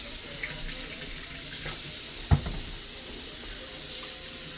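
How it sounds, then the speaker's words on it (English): Water runs steadily from a kitchen tap into a sink, a continuous hiss with a single brief clatter partway through, fairly close and without talk. "I'm gonna turn off the water and get your bowl"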